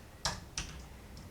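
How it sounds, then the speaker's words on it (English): Two crisp key taps on a Bluetooth keyboard paired with an iPhone, close and quiet, spaced about a third of a second apart, then near silence. "now I input a header and typing hello"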